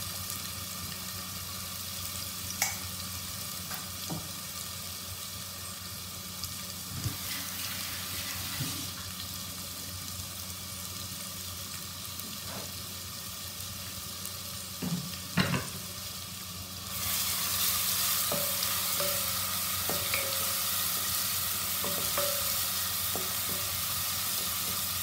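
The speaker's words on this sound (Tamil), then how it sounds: "இதில் உள்ள பச்சை வாசனைலாம் போகிற அளவுக்கு நல்லா வதக்கி எடுத்துக்கலாம்." Onion paste sautéing in hot oil for egg biryani, a steady close sizzle with occasional spoon scrapes, growing louder and brighter partway through.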